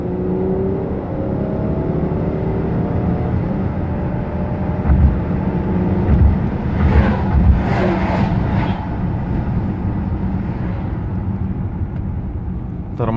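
A Rover 75 sedan accelerates hard, its engine building into a loud, sustained roar with rising intensity and broadband road and wind noise from inside the car.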